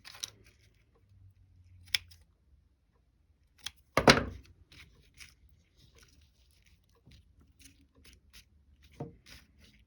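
A few short snips and rustles of scissors cutting card stock for a handmade greeting card, quiet and close, with one louder crunchy cut in the middle and near silence between.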